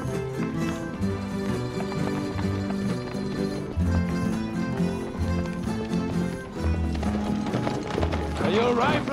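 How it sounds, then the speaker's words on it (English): Horse hooves clip-clop in a steady rhythm while a rider travels in Mexico, close and clear, with music playing underneath throughout. "Is the horse riding you well?"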